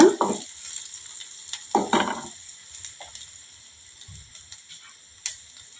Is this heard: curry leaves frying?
yes